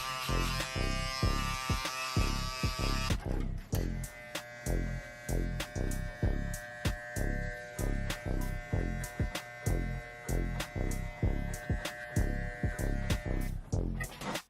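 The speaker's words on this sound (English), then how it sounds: "we'll follow it with T-outliner to get that very, very soft line out of there" A T-Outliner electric hair trimmer buzzes close up in a barbershop during a taper fade, its motor humming steadily while it pulses in a quick, regular rhythm of strokes along the hairline.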